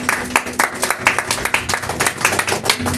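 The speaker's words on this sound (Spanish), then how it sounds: "Dale un fuerte aplauso a nuestro Señor Jesús" A church congregation gives a short round of applause, close, uneven clapping from a modest group lasting a few seconds.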